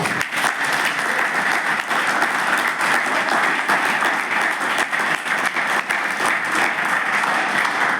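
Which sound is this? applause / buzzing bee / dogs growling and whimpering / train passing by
applause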